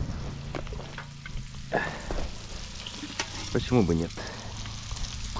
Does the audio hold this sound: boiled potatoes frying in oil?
yes